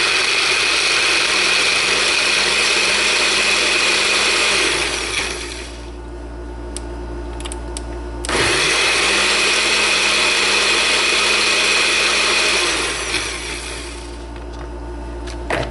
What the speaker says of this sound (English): Put it on and puree.